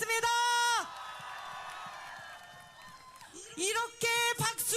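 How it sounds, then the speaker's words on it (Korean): A large outdoor crowd at a presidential campaign rally in Gwanghwamun applauds and cheers at moderate volume, a continuous rustling wash framed by a loud amplified voice speaking before and after. "이렇게 박수가 약하시면 여러분의 헌법 수호 의지가 약하다고 생각해도 되겠습니까?"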